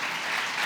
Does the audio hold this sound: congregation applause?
yes